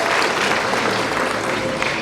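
Steady applause from an audience at a year-end training event during a party appointment ceremony in Hongseong, dense clapping filling the room without pause.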